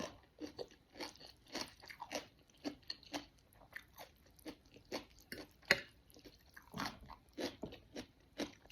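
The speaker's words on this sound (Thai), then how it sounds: "เสียงกรอบ" Close, quiet crunching of crispy food, a long series of irregular sharp bites and chews with short pauses between them and no talking.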